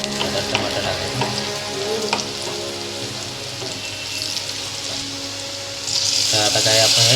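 Chopped tomatoes hit hot oil with browned onions in a home kitchen pan for a Marathi-style cowpea dish, a steady close sizzle with stirring scrapes, flaring louder and brighter near the end as the tomatoes land.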